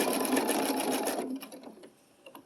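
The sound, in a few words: sewing machine doing a blanket stitch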